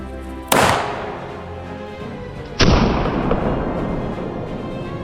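A 53 caliber hand cannon loaded with 60 grains of powder fires outdoors, giving two loud, sharp booms about two seconds apart, each trailing into a long rumbling echo.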